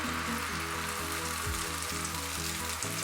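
Masala omelette batter sizzles steadily in a frying pan, a dense even crackle of hot oil that stays constant throughout, close up with no talking.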